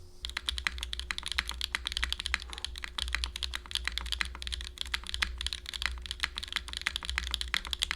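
Fast, steady typing on a Protagonist mechanical keyboard with Ghost Dragon keycaps fills the whole stretch, with dense clacky keystrokes at close range and no voices.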